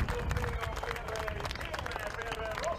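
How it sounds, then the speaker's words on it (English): Spectators at a Ferrari Challenge Europe podium ceremony at Imola applaud the race winner, a scattered, moderately distant clapping mixed with crowd babble and a commentator's voice running over it. "the applause for Nicolo Schiro, who receives his podium"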